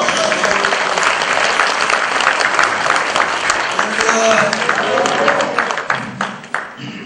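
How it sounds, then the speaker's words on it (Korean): Congregation applause welcoming a pastor to the pulpit at a Korean prayer retreat: loud, sustained clapping from a large crowd that fills the room and thins out near the end, with faint voices underneath. "우리 박수로 환영하겠습니다"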